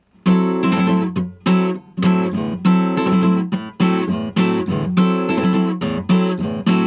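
Rhythmic nylon-string guitar strumming in a bolero pattern, with bright, full chords struck in repeated bursts and quick rolled accents, close and alone.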